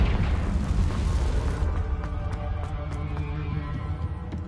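A Confringo blasting curse explodes in Hogwarts Legacy with a loud, broad boom that rolls into a long decaying rumble and scattered crackling debris, with no talk over it.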